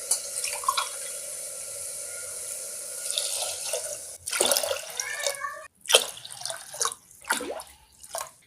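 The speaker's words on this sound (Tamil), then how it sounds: "ஒன்றுக்கு நாலு அளவுக்கு நான் தண்ணி வைக்கிறேன்" Water pours from a tap into a cooking pot in steady streams, broken by brief pauses and splashy bursts nearby.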